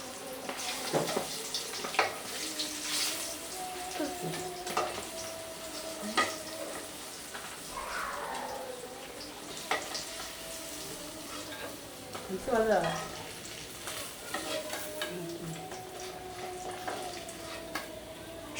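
Hilsa fish fries in mustard oil, Mawa style, in a home kitchen: a steady, fairly quiet sizzle broken by frequent spatula clinks and scrapes as the pieces are stirred and turned.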